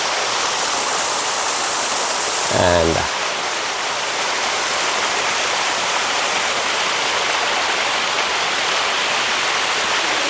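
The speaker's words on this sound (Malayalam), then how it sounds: "അതിൻ്റെ മുകൾ ഭാഗത്ത് ചെറുതായിട്ട് വെള്ളം വീഴുന്ന സ്ഥലമുണ്ട്" Water spilling steadily from a small rocky waterfall at Ilaveezhapoonchira, a constant broad rushing wash that fills the whole scene, with a brief spoken word near the start.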